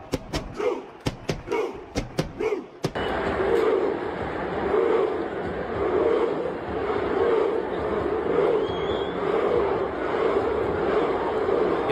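Large stadium crowd roaring in a sustained, loud wash of cheering, preceded by a run of sharp rhythmic thumps or claps.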